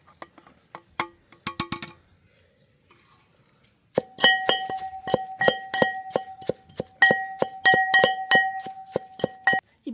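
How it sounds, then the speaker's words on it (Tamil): Coconut sambal is pounded in a mortar with a pestle, giving sharp, hard clinking strikes. A few hits come first, then a pause, then a fast steady run of close knocks. "இதோட நாங்கள் இப்போ தேங்காய் பூவையும் சேர்த்து நல்ல வடிவாக இடித்து கொள்ளுவோம்."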